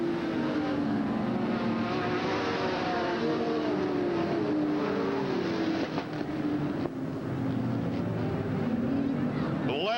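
Race cars lapping a speedway, a continuous engine drone with wavering pitch as cars pass, heard under steady commentary talk.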